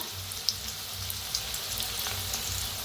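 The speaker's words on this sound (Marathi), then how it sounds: "कांद्याला चांगलं भाजून घेऊया" Onion frying in a pan with red chili powder and curry leaves, a steady close sizzle with faint crackles and small pops, no voices.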